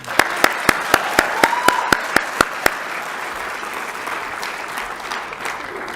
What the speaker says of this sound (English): I'm offering a round of applause to that graduate